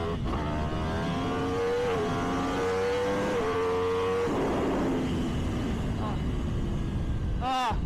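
A Yamaha R1M motorcycle fitted with an Akrapovic exhaust accelerates hard through rising engine tones broken by gear shifts, then backs off, with wind roar throughout and a quick sharp rev near the end.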